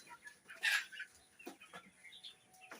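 Sonali hens, around eight to ten local chickens, clucking on a raised chang farm, with one louder burst of clucks near the start followed by scattered softer calls. The flock sounds fairly faint and somewhat distant, and no voices are heard.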